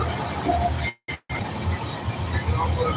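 A train running at moderate speed through Odisha between station stops, its steady rolling rumble and rail noise continuing throughout with a brief dropout near the middle.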